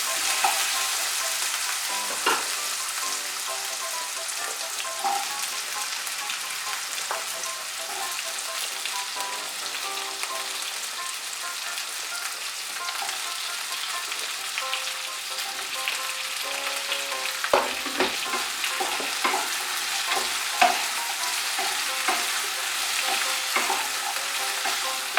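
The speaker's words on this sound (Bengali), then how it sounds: "দিয়ে শিম আর আলুটা একটু ভেজে নেব।" Green beans and potato fry in a pan with a steady, even sizzle and crackle, broken by the scrape and clatter of stirring, all at a moderate level with no talking.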